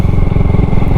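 A 2022 Honda Grom motorcycle engine drones steadily and loudly up close while riding, a continuous low throbbing pulse with no pauses.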